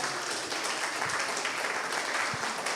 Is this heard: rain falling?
no